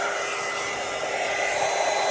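A heat tool blows hot air onto a vinyl-covered tumbler, giving a steady, close, even whooshing hum that holds constant throughout.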